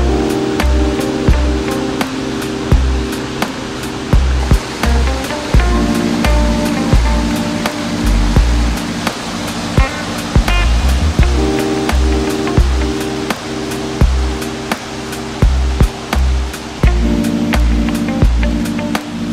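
Rushing water at a waterfall in the Thai countryside, a constant loud roar with strong rhythmic low thumps and sharp transients over it, continuous and close throughout.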